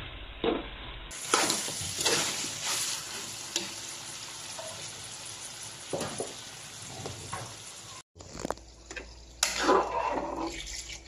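Dinuguan, a pork blood stew, is stirred in a pan with a sizzling, bubbling simmer and intermittent scraping and sloshing from the stirring, steady and close, with a brief cut partway through.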